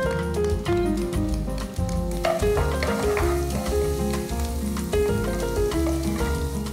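Garlic sizzles in hot oil in a pan, with a steady frying crackle heard close beneath musical tones and clattering.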